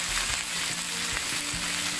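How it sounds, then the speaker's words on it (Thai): Cabbage being stir-fried in a wok over high heat, a continuous loud sizzle and crackle with a few soft scrapes of stirring. "ขั้นตอนนี้ใช้ไฟแรงผัดนะ อึดใจนึง ผัดกระหล่ำค่ะ"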